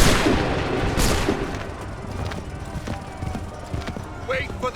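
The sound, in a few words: musket volley and gunfire in video game Assassin's Creed III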